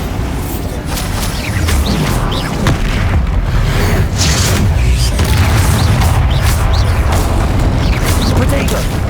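Bombarda explosion spell cast in Hogwarts Legacy amid a barrage of combat magic: dense, continuous booming blasts and crackling impacts fill the whole stretch, loud and close, with spell shouts mixed in.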